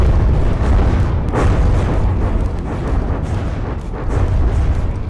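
Shells blasting against an armored vehicle in a video game battle, a dense, rumbling barrage of heavy booms and impacts that rolls on without pause.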